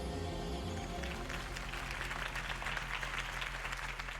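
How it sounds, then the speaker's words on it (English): Applause from a crowd at a political campaign rally in the Batman Telltale Series video game, a dense, steady clapping that fills the whole stretch, starting over a music bed. "could have heard that applause"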